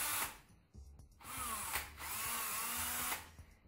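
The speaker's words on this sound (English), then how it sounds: "I have a little bit of a drill bit here" A power drill pre-drilling small holes in a wooden furniture piece, running in a few steady whirring bursts separated by brief pauses, close and fairly loud with no talk.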